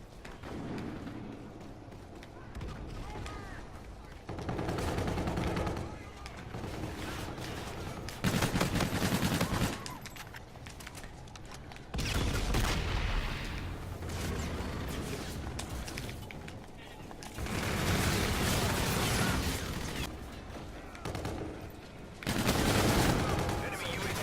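Gunfire in Call of Duty Infinite Warfare beta gameplay comes in loud bursts of rapid automatic shots with booming blasts between quieter stretches, while players talk over it.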